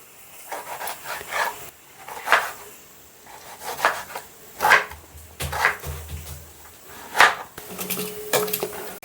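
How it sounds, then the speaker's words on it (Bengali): A knife chops through a tomato on a board in a series of firm, evenly spaced thuds, about six or seven strokes, close and clear with no talking. "তো চলো টমেটোটা কেটে নিই।"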